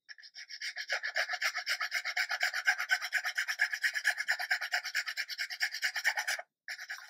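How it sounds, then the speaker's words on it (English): Rhythmic rasping strokes of a hand file scraping rough filler down to the plastic on a 1/72 scale MiG-29 model kit, steady back-and-forth rubs close up, stopping briefly near the end. "I'm using files in the first instance"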